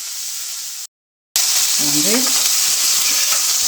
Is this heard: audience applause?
no